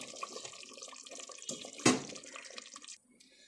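Water is poured into chicken biryani in a pressure cooker: a close, splashing, trickling pour that swells and peaks sharply near the middle, then cuts off abruptly, leaving near silence.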